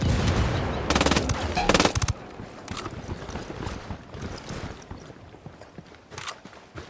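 Rapid automatic gunfire rattles in loud bursts during a firefight in the tactical shooter Ghost Recon Wildlands, followed by scattered shots and movement noise as the fight dies down.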